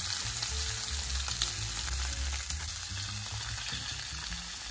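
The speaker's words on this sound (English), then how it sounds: "we're going to cook both sides for roughly 40 seconds again, just to develop a better crust" A salt-brined, boiled steak sears in an oiled frying pan, producing a loud, continuous close sizzle and hiss that holds steady throughout with slight fluctuations.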